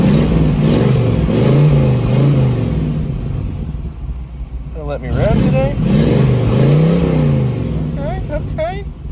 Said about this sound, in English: Gonna let me rev today.